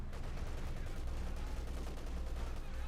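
Dense, sustained machine gun fire in the World War II strategy game Company of Heroes 2, a continuous loud rattle of rapid shots filling the whole stretch with no voices.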